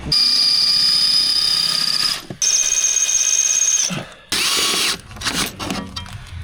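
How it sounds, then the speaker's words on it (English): A power drill whines in loud sustained bursts with short pauses between, drilling out two bolts on a car with the wheel off, followed by clanking metal and scraping. "we have to take the wheel off because Christian has to drill out those two bolts"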